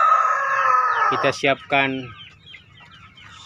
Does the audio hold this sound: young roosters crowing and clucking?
yes